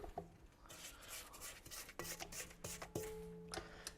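A spatula scrapes down the sides of a bowl of creamed butter and sugar for cookie dough, a string of soft, close rubbing and scraping strokes with light clinks against the bowl.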